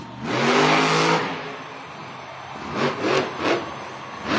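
A monster truck engine at a San Diego stadium Monster Jam event roars loudly in a surging rev, drops back to an idle, then gives several short blips of throttle at mid distance.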